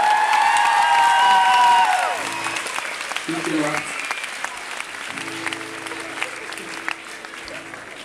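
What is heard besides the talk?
concert audience applause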